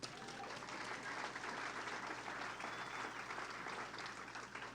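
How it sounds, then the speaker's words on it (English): Audience clapping for John at a celebration, a steady, dense wash of applause from a crowd that holds evenly for the whole stretch with no voices on top. "Big clap for John."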